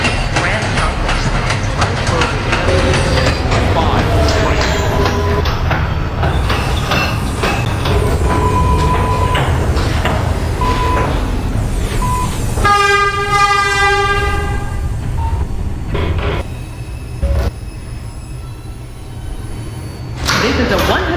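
A New York subway 4 train runs toward Yankee Stadium with a loud, continuous rumble of wheels and cars, and bright sustained tones rise over it midway through. A voice talks over the train.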